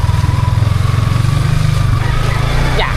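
A motorcycle engine runs steadily and loudly close by, its low throbbing rumble continuous throughout, with a faint rising whine near the end.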